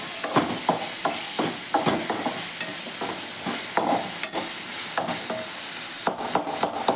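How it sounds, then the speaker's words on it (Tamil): Vegetables and green produce fry in a pan while a utensil stirs them, giving repeated scraping clacks over a steady sizzle, close and moderately loud, with no talking. "பச்சைக்காய் இது மாதிரி வறுத்து பாருங்கள், சூப்பராக இருக்கும்."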